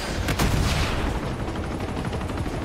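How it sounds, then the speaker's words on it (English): Dense gunfire rattles in Uncharted 2 as enemies shoot at the player, a steady loud barrage of overlapping shots and booms with no let-up through the clip. "they just keep shooting me and I keep dying"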